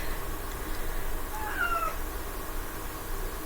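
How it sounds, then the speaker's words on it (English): A single faint, short cat meow rises briefly over a steady background hiss. "Meow to you too, Nala."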